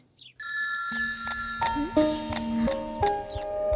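A telephone rings in a scene from a Hindi-dubbed South Indian action thriller: a steady electronic ringtone of sustained tones, with changing notes and a faint voice under it.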